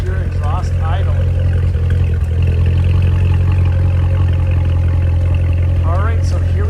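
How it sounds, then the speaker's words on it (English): A 2018 Chevrolet Corvette Z06 2LZ coupe with a supercharged LT4 V8 and automatic transmission idles, its exhaust holding a steady, deep, even rumble throughout, with faint voice-like sounds above it. "here is your exhaust idling."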